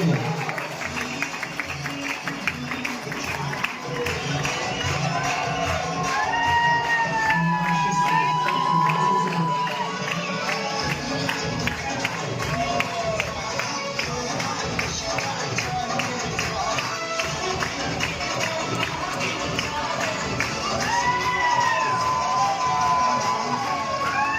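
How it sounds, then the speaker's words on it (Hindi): A crowd greeting a new zonal team coordinator keeps up loud, continuous applause with cheering, whoops and shouting voices for over twenty seconds, the clapping steady and dense throughout. "तालियों की गड़गड़ाहट लगातार होनी चाहिए"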